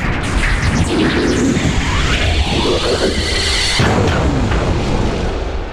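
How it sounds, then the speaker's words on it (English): An explosion after defeating a boss in the video game Secrets of Grindea: a dense, loud, sustained rumbling burst with layered crashing noise lasting several seconds before easing off. "Somewhat epic explosion."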